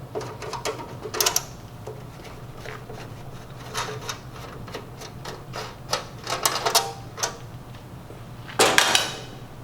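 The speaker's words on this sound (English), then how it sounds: "remove the 5 Phillips screws on the bottom cover and remove the cover" Phillips screws are backed out of the bottom cover of a Star two-sided grill, giving close, light metallic clicks and ratcheting ticks in uneven bursts, with a louder clatter near the end.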